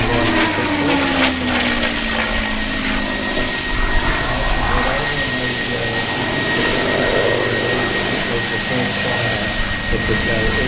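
Canberra jet bomber, a licence-built example made in Australia by Commonwealth Aircraft Corporation, flying at the Wings Over Illawarra airshow, a loud steady roar of jet engines throughout with a sweeping tone, and voices faintly mixed in.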